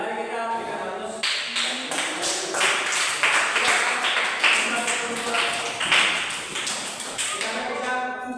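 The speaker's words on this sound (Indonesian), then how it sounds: "Baik, mari kita berikan aplaus." Classroom applause for a student discussion group, a scattered patter of hand claps swelling and fading over several seconds, fairly close, with people talking over it.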